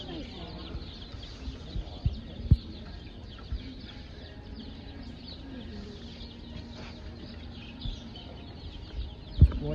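Rhode Island Red chickens cluck softly in the background, with a few sharp knocks and low murmuring voices nearby over about ten seconds.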